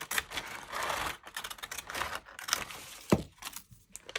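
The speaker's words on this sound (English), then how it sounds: "I'm just going to use some decorative scissors to give a pleasing edge to this fun parcel." Decorative scissors snip a scalloped edge into junk mail paper, a close series of crisp cutting crunches and papery rustles that arrive in irregular bursts with brief pauses between strokes.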